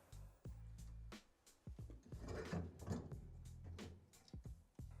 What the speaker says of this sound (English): Using a 3/8 inch wrench, remove the nut securing the motor to the drive assembly.